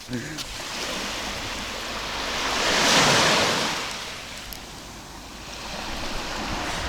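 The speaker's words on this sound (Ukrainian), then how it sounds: "З однієї сторони у нас хвиля доволі велика, з другої тишина." Sea waves surge against a rocky stone pier in Odesa, a broad washing roar that swells to a crest midway and then eases, with wind buffeting the microphone throughout.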